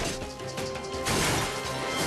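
A sledgehammer smashes into a jukebox, a loud crashing impact with clattering debris that swells midway and stays harsh and dense, with no talk.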